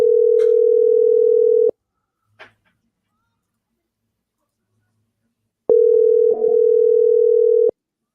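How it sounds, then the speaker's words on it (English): A steady electronic telephone tone sounds twice in long unbroken stretches, with a short pause between and a faint click or two. "We're hearing a ringing coming through."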